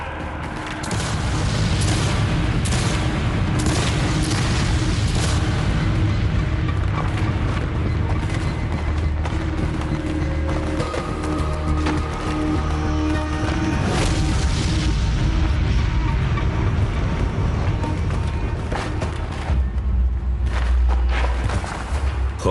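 Heavy artillery booms loudly and continuously in a battle reenactment of Gettysburg, overlapping blasts and rumbling explosions merging into a sustained, thunderous barrage.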